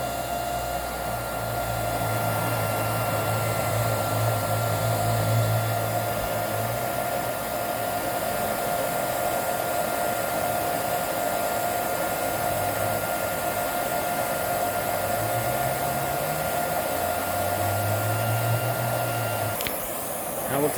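A Hoover CH32008 Hushtone vacuum cleaner running continuously, a loud steady close whine with a constant hum, its low pitch shifting slightly as airflow changes, with faint voice underneath.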